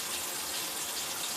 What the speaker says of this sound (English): I can run water. Getting no leaks down here.